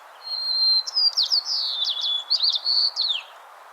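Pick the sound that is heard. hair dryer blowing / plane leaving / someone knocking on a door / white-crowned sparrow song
white-crowned sparrow song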